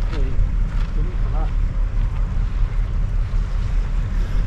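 Strong coastal wind buffets the microphone on the East Coast shore at Paull, a constant low roar with gusting swells and surf underneath, while faint voices talk in the background.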